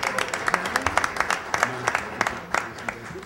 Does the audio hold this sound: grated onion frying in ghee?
no